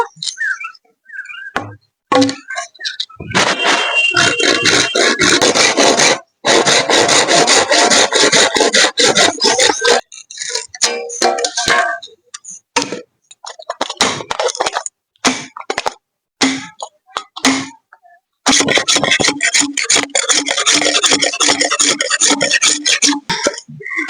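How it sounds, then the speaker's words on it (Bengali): Handsaw cutting through a length of bamboo, close and loud, in long stretches of rapid rasping back-and-forth strokes broken by short pauses. "বাঁশটাকে এখন কেটে নিব"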